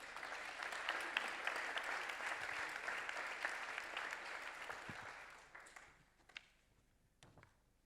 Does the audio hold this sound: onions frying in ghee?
no